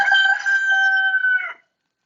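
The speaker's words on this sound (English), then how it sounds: "Hello, rooster." A rooster crows once, loud and clear, a sustained drawn-out call that cuts off sharply, with nothing else around it.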